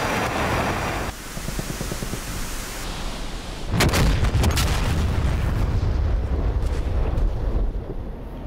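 A weapon strike on a MANPAD team in the flight simulator DCS F-16C: a low rumbling roar builds, then a loud booming impact with crackling bursts that trails off into a sustained rumble.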